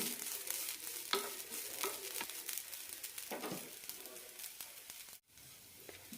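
Grated coconut dry-roasting in a pan over a medium flame, with a steady soft crackle and repeated scraping strokes of stirring close by, then a brief drop to near silence at the end.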